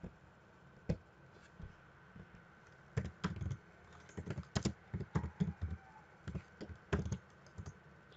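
Keys clack on a computer keyboard in short irregular bursts, scattered taps building to a quick cluster ending with a Ctrl S save, close and fairly quiet against a low room hum, no talking.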